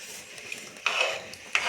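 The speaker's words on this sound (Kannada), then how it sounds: "ಫೈನಲ್ ಕೊತ್ತಂಬರಿ ಸೊಪ್ಪು ಹಾಕಿ ಮಿಕ್ಸ್ ಮಾಡಿ." A spoon stirs a cooked dish in a pan after fresh coriander leaves are added, giving two short scraping, rustling strokes against soft background hiss.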